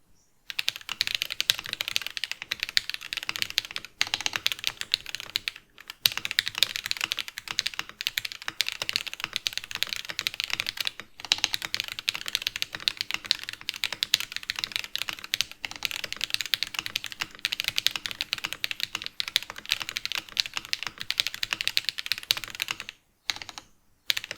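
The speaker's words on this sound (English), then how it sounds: "Typing feel of this board was not bad." Steady typing on a Monstargear XO K80 keyboard with a polycarbonate case and hot-swap switches, a dense run of crisp, close keystrokes with brief pauses and no voices.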